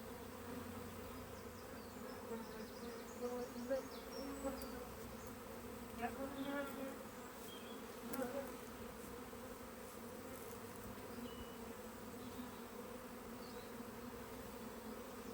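A swarm of honeybees buzzing around a top bar hive, a dense, continuous drone with individual bees passing close now and then, fairly faint overall and with no talk.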